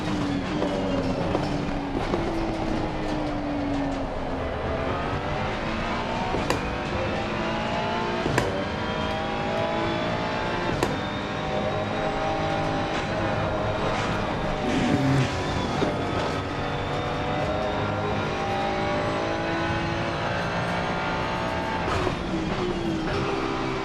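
Race car engine in Assetto Corsa Competizione revving hard and steadily for the whole stretch, its pitch climbing and falling through gear changes, loud and close with no talking.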